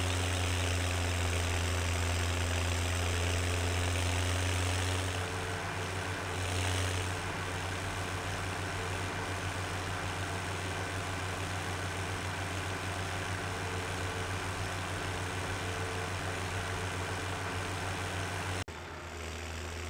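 A tractor engine in Farming Simulator 17 drones steadily as it drives, a deep constant rumble with a low throaty hum that stays loud and even for the whole stretch, briefly shifting near the end.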